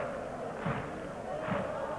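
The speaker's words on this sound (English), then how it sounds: "The rhythmic clap you can hear in the background is by the Rapid fans" A stadium crowd of Rapid Bucharest fans claps twice in a slow, even rhythm at a UEFA Cup night match. The claps sit under steady crowd noise and an ongoing commentator's voice.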